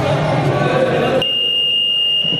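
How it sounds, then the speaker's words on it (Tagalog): A game buzzer sounds partway through during a basketball match, a sharp sustained electronic tone cutting in after crowd noise and echoing court ambience. "Buzzer tayo."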